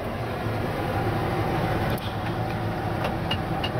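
A 1985 GMC K1500 pickup's engine runs at a steady idle, a dense, continuous, close rumble with no break and no talk over it.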